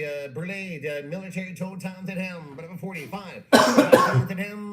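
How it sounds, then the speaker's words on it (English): Someone speaks steadily, then breaks into a sudden loud, rough cough near the end, a short harsh burst close to the microphone that cuts across his voice. "Sorry about my coughing there."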